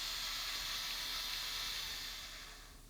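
Motors of a Skywatcher Star Adventurer GTI telescope mount slewing back to home position, a steady whirring hiss that holds evenly and then fades slightly toward the end.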